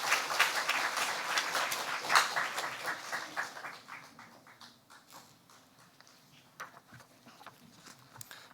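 A church congregation applauding during a Sunday service, dense clapping that starts full and gradually thins and fades, a room-wide patter heard from a distance without talk.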